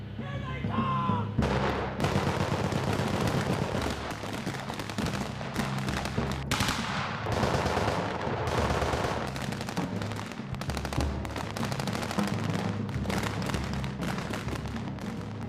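Pyrotechnic explosions and rapid gunfire erupt while a large battle scene is filmed, a loud dense barrage of cracks and booms rattling on almost without a break after a brief opening, with voices partly buried beneath.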